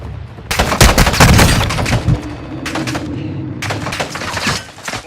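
Automatic gunfire in Warzone 2 rattles in loud, close bursts, a dense fusillade at the start followed by two shorter volleys, with low rumbling booms beneath.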